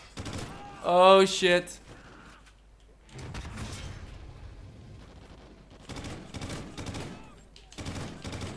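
Automatic gunfire in Call of Duty: Ghosts during an 18-player Infected match, coming in sharp rapid bursts between stretches of quieter game noise, with a player shouting and talking over it.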